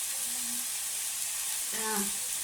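Vegetable curry simmering in a pan gives a steady soft sizzle and hiss throughout, with a brief tonal sound near the end.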